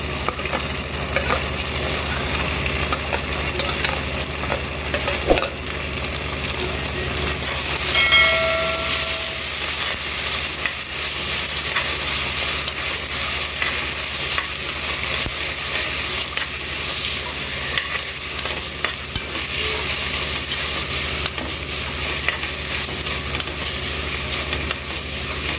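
Onion with ginger garlic paste frying in oil for a country chicken biryani, a continuous loud sizzle with scraping stirring strokes and occasional clanks of the spoon against the pot.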